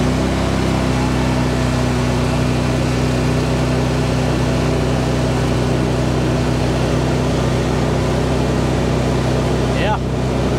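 A Mahindra Retriever 750 UTV engine runs at high RPM, a loud, unbroken droning roar that holds steady for the whole stretch, close to the listener.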